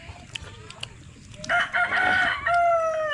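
A rooster crows nearby, loud and clear: a long cock-a-doodle-doo starts after a quiet stretch and is followed at once by a second crow. Only faint, scattered background sounds come before it.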